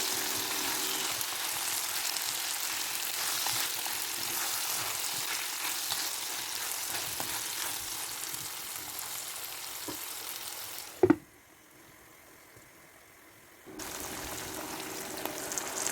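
Vegetables with bell pepper and dill sizzle steadily in a frying pan, cooked for a pumpkin stuffed with meat; a sharp knock cuts in before a near-silent pause, then the frying hiss resumes.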